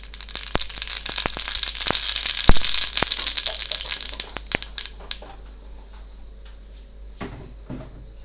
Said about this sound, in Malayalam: നമുക്ക് കടുക് ഇട്ട് കൊടുക്കാം.